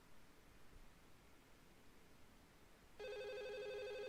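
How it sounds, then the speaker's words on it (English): An electronic telephone ringtone in a video game starts partway through and keeps ringing steadily, loud and alone over a faint background hiss. "Okay, the phone again."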